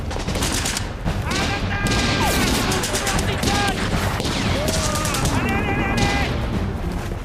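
Soldiers fire rapid volleys of rifle and machine-gun shots during an infantry assault in a Stalingrad war film, a dense, continuous battle din with shouting voices mixed in throughout.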